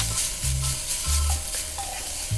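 Kale is tossed in a hot skillet with a wooden cooking stick, giving a continuous sizzle broken by repeated scraping, stirring strokes, close and fairly loud with no talk.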